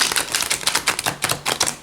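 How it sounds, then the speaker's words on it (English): Tarot cards being bridge-shuffled by hand, a quick, close run of crisp papery clicks and flutters that come in short rhythmic bursts, with no voices. "Or they'll do real fancy shuffling. You know, where you cut the cards."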